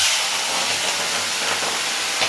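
Shrimp frying in very hot oil in a wok, giving a loud, continuous hissing sizzle that stays even and close throughout, with no voices over it.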